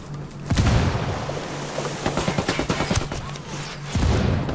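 A grenade blast and rolling gunfire in Ghost Recon Wildlands, a loud boom followed by rapid bursts of automatic shots and a second heavy blast near the end.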